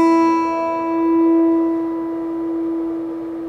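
A single plucked high note rings out clearly on an electric guitar string and slowly decays, alone with no other sounds.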